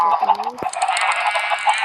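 Chickens clucking in Minecraft survival gameplay, short fowl calls at the start and then a bright, steady in-game sound bed, with someone talking faintly over parts of it.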